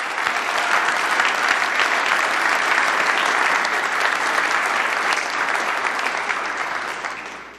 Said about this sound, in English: If you would, a round of applause for the people who have made it work.